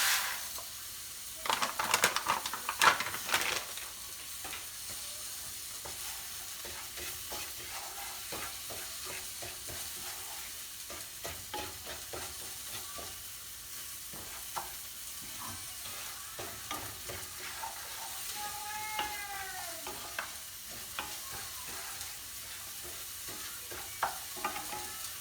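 Short-grain risotto rice stirred and toasted with onions in a hot pan, giving a steady soft sizzle with scraping stir strokes, louder at first and then settling into a continuous background crackle.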